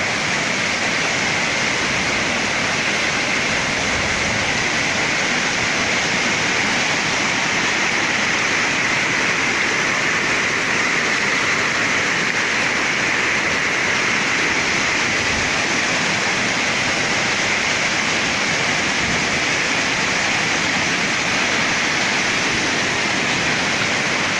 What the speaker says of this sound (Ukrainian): Прибивает и прибивает вода.